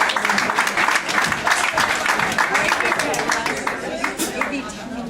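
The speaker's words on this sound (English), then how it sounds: "Can we give her a big round of applause?" Audience applause at a jazz tribute concert, a dense steady wash of many hands clapping for several seconds, with some voices mixed in.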